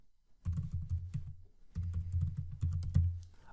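Fingers type a domain name on a computer keyboard in two quick bursts of close, crisp key clicks with a short pause between them, and no voices.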